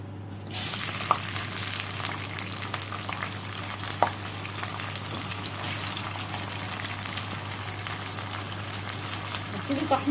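Washed rice poured into hot oil in a pan, setting off a sudden loud sizzle that continues steadily up close, with a low hum underneath and a few clicks of utensils.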